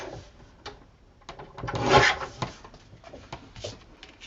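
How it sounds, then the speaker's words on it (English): Paper print being trimmed with a blade or trimmer, a soft, close scraping and rubbing in short irregular strokes, swelling to one louder pass midway before fading. "I'm going to trim just a little bit off the bottom."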